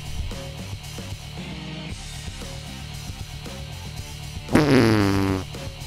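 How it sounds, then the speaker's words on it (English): Heihachi's fart attack in Tekken 5 lands over the fighting game's steady background music as a loud, drawn-out, sputtering blast lasting about a second before cutting off. "His fart knocked me on my ass."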